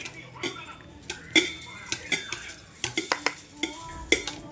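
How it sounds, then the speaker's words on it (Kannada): Food is stirred and mixed in a pot with a metal spoon, giving a string of sharp clinks and scrapes at an irregular rhythm, close by. A voice talks between the strokes. "ಇಲ್ಲೆಲ್ಲ ಹಿಂಗೆ ಹಾಕಿ ಹಿಂಗೆ ಮಿಕ್ಸ್ ಮಾಡ್ಕೊರಿ"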